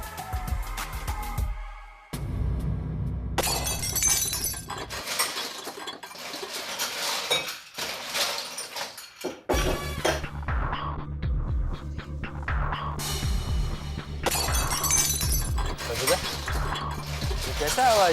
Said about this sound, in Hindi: किचन से बर्तन गिरने की आवाज आ रही है।